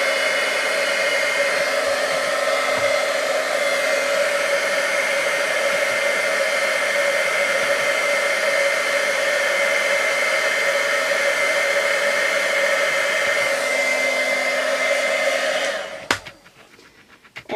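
A heat gun sets glitter embossing glue on a stamped paper butterfly, blowing a loud, constant whine-and-rush for about sixteen seconds before cutting off abruptly, followed by a few faint handling clicks.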